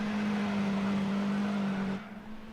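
Race cars in Gran Turismo 4 give off a steady, humming engine drone with a strong low tone during a pit sequence. It holds evenly, then drops away sharply near the end.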